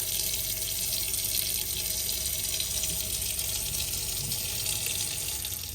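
Pressurized water gushes steadily from a tap in a 2018 Swift Champagne 622 caravan, driven by a working water pump, a continuous hissing flow heard close and alone.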